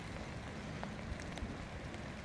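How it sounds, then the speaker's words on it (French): Heavy rain falling outdoors, a steady soft patter of drops with a few louder taps, faint and continuous. "on voit les gouttes tomber, il pleut beaucoup"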